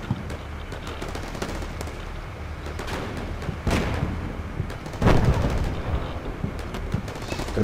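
Gunfire in the modern combat game Combat Mission Shock Force with Marines fighting special forces, a dense, continuous rattle of rifle and machine-gun bursts with heavier booming impacts, the strongest blasts coming near the end, no speech.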